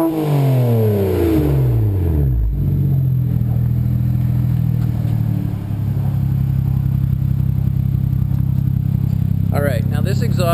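A BMW 335i fitted with an HPF 3.5-inch stainless steel exhaust revs hard: a quick rising and falling sweep, then a loud, steady high idle that holds up close.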